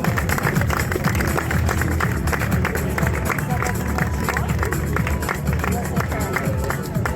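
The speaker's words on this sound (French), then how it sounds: "Applaudissements pour Lisa Bidot." Dense outdoor applause and crowd hubbub for the third-place women's Medio Fondo finisher at the Trophée Vosgien gran fondo, a continuous loud wash of clapping and murmur with no clear gaps.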